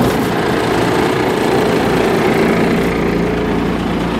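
A 1988 Blue Bird International S1800 bus engine just after a cold start, running with a loud, steady, rough rumble close by, with no talking.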